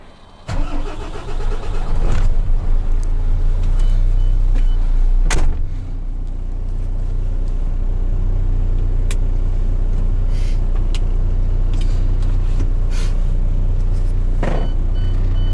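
A 2007 MAN TGA truck engine cranks and catches with a loud roar, then settles into a steady diesel idle and drives off, with a few clunks and knocks over the running engine.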